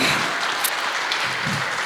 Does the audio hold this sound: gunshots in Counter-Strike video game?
no